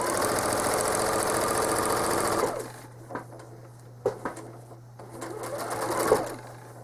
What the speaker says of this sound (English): So I'm going to stitch in the ditch, but I'm going to use a ruler for this.